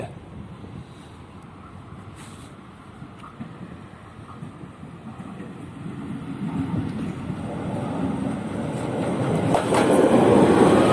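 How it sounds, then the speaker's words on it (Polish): A Regio passenger train on the Kołobrzeg to Szczecin Główny service pulls into a station platform, its low rumbling roar building steadily from moderate to loud as it draws near, with no talk over it. "Wjeżdża pociąg Regio relacji Kołobrzeg Szczecin Główny."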